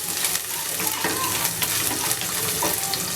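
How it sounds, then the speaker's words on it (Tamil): Crushed garlic cloves hit hot oil in a pan for an Andhra-style dish, giving a steady, close, wet sizzle with some stirring noise throughout and no talking. "இந்த மாதிரி தட்டி வச்சுருக்க பூண்டு போடலாம். பூண்டு நல்லா வதங்கட்டும்."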